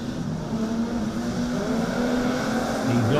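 Production sedan race cars roar around the Lismore Speedway dirt oval in a feature race, a steady engine drone with rising pitch as the pack accelerates away, loud and continuous with no talk.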